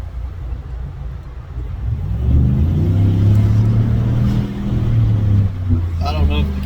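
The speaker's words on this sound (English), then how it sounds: "It's just the perfect amount of sound you want to hear from a V8." A V8 car engine revs and accelerates with the windows down, a deep, loud throaty roar that swells after a quieter idle and holds strong, dipping briefly before rising again.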